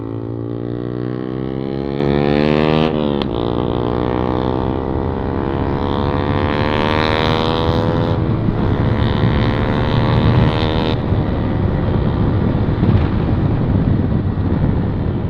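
A modified Yamaha MT-15 BS6 motorcycle with a loud aftermarket exhaust roars steadily and close, its engine note rising and shifting as it revs and pulls away, with no talk over it.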